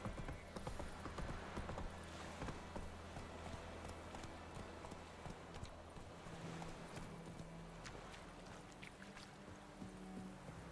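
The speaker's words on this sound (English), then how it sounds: "Oh, I just wanna hop on. Alright. Move it. Run, Roach" In the video game The Witcher 3, a horse gallops with steady, rapid hoofbeats that clip-clop evenly over a soft, constant ambient wash, quiet and continuous throughout.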